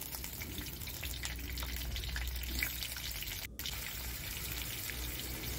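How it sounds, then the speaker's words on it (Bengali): Large cut potato pieces frying in a pan of oil for a Bengali desi chicken curry, a steady soft sizzle that holds evenly throughout, fairly quiet and with no talking. "এবার আমি আলুগুলো ভেজে নেব।"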